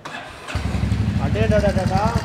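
A motorcycle engine cranks and catches, then settles into a steady, throbbing idle up close, with a voice briefly talking over it.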